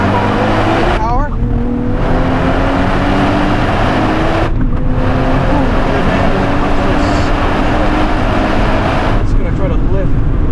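A 2027 Nissan Z NISMO with a manual gearbox roars loudly and continuously as it pulls hard around a race track, with brief pitch drops at the shifts and a voice faintly under the engine noise.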